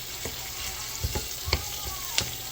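Tomatoes are mashed and stirred in a frying pan for binagoongan. A low sizzle runs throughout, broken by a few irregular soft knocks and scrapes of the utensil against the pan.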